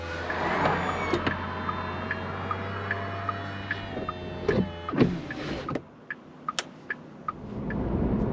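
An electric roof mechanism on a Porsche 911 992.2 GTS Targa whirs steadily for several seconds with faint ticks and clicks, then stops abruptly, leaving quieter wind and small mechanical clicks.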